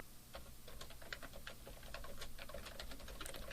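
Quiet, rapid keystrokes on a computer keyboard, an uneven stream of light clicks close to the mic over a low background hum.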